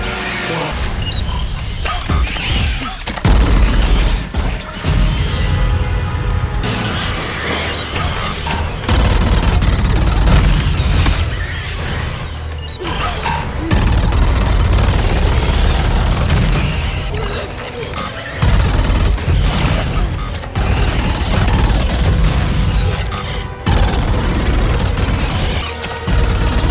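Compound rifle gunfire and explosion effects pound out in dense, loud volleys of rapid shots and heavy booms, with brief lulls between bursts.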